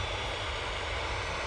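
A Ryanair jet arriving at Manchester Airport gives a brief, fairly faint, steady engine roar with no talk.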